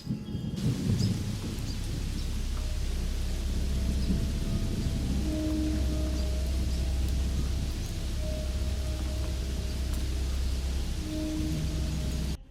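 Heavy night rain pours down in a rural village area, a loud, dense, unbroken roar with deep rolling thunder rumbling underneath throughout, no voices.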